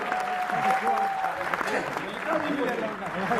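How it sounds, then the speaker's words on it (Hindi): Loud, steady applause from a large crowd fills the whole stretch, with cheering voices mixed into the clapping. "अगर समझ में आई तो एक बार जोरदार तालियां बजा दो भैया"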